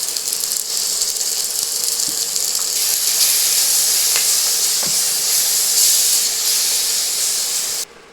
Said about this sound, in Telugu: ఒక స్పూను అల్లం వెల్లుల్లి పేస్ట్ వేస్తున్నాను